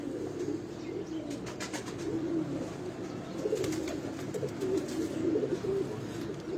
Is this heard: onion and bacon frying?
no